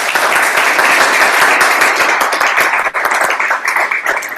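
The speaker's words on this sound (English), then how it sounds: "round of applause." An audience at a charity event applauds in a dense, steady burst of clapping that holds for several seconds without pause.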